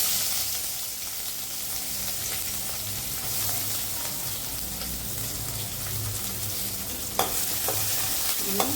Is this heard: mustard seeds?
yes